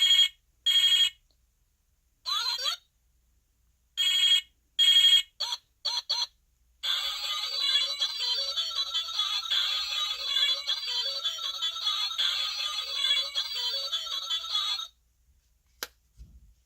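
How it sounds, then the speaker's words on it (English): A toy butterfly phone's electronic tones beep in short bursts, then a longer warbling electronic ring plays continuously for several seconds before stopping with a click. "whenever one of the millions of children around the world pressed any button on this phone, it would play this sound"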